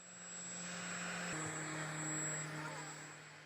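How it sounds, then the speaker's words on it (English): A Boeing cargo plane built for UPS runs its engines on the runway at the Everett factory and Paine Field, giving a steady distant roar with a low engine hum that shifts in pitch partway through. "The airplane being tested on the runway is a cargo plane built for UPS."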